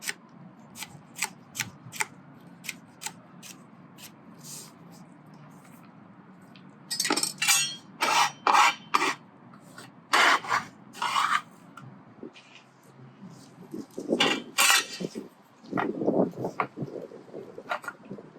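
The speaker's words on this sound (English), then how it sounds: "turn it sideways, get a nice small dice on that." Knife dicing pork on a cutting board, a run of sharp close chops in quick bursts, with a quieter stretch of soft taps and a voice speaking between cuts.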